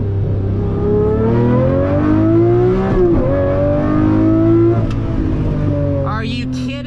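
A Lamborghini Murcielago SV V12 roars continuously from inside the cabin while driving, revving up through rising pitch sweeps with brief dips at gear shifts, loud and close, with a faint voice near the end.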